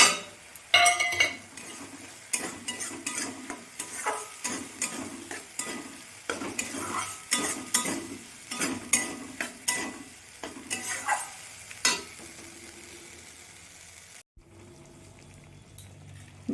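A chopped medium-sized tomato is stirred and fried in a pan for a Bengali chana dal dalna, with a steady run of close scraping and clinking spatula strokes over a low sizzle that fades quieter near the end.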